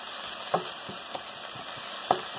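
Garlic and onion frying in a wok, a steady soft sizzle with a few sharp utensil taps and scrapes as the mixture is stirred.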